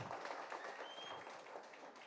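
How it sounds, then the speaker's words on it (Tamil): An audience at a Tamil film audio launch applauds, a dense, even wash of clapping at a distance, fairly faint and steady throughout. "அவங்களுக்காக ஒரு வெயிட்டாக கரகோஷம் கொடுங்க"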